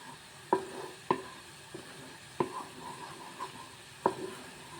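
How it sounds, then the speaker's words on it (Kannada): Carrot halwa cooked with milk bubbles up in a small pan, giving sharp, sputtering pops every half second or so over a low, steady simmer. "ಸಣ್ಣ ಪ್ಯಾನ್ ಇಟ್ಕೊಂಡಿರೋದ್ರಿಂದ ಇಲ್ಲಿ ಉಕ್ತಾ ಇದೆ"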